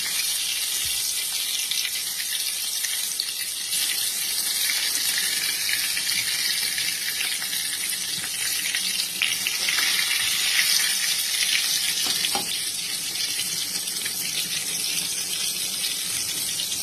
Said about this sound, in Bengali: বেগুন আমার ভাজা হচ্ছে।